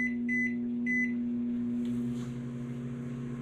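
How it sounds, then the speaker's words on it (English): A microwave oven hums steadily with a low drone, preceded by a few short electronic beeps as it starts up. "I'm going to place it in the microwave, start warming it up"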